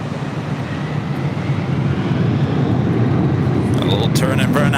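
A 26-year-old Delta Boeing 767-300ER rolls down a runway at LAX, heard as a loud, steady, distant jet roar building slightly, with a voice speaking near the end.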